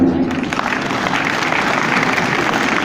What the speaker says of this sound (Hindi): अब आप चाहें तो ताली बजा सकते हैं